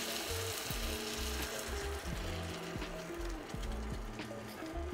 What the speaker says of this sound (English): you're going to want to add in your sauce. Careful to add it slowly so you don't get spattered.